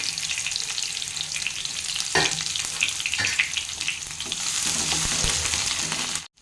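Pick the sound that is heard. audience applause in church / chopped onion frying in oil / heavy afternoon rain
chopped onion frying in oil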